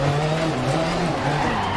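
Lancia 037 rally car in DiRT Rally 2.0, engine revs falling and unwinding in a loud continuous whine with gliding tones and tire noise, steady and close throughout.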